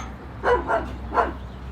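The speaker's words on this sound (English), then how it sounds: "What are you barking at?" A dog barks three times, two quick barks then a third after a short pause, fairly close against a quiet room hum.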